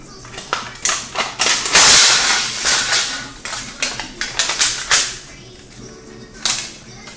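Scissors snip through a thin aluminum can, a series of sharp metallic clicks and crinkling cuts at close range, loud and irregular, with a little quiet talk.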